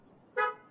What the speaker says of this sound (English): Whoa, horn honking.